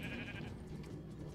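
Sheep bleating in the Winterzeit video game, one drawn-out wavering bleat, fairly close and moderately loud against quiet game background.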